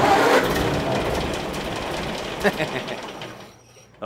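A 1930 Ford Model A sedan engine runs off its fuel tank with a steady broadband rumble that fades and briefly drops away near the end before surging back, with faint voices nearby.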